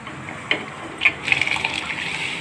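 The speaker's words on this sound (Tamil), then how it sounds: "தேவையான அளவு தண்ணி ஊற்றி கொதிக்க வச்சுக்கோங்க" Water poured into a cooking pot for boiling chana kurma, a soft splash followed by a steady, close gushing pour into the vessel.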